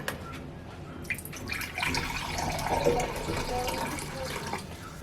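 Water runs from a kitchen tap into a container while muffin batter for zucchini muffins made with freshly milled flour is prepared, a steady mid-level splashing stream with light clinks of handling throughout.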